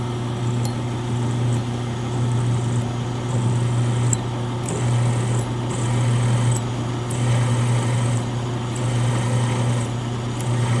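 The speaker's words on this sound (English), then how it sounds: "We're going to drill our two 1/4 inch holes on our first piece." A power drill with a 1/4 inch bit drills holes for a conibear trap setter tool, giving a steady, loud motor whine throughout with a droning hum and small rises and dips in pitch as it bores.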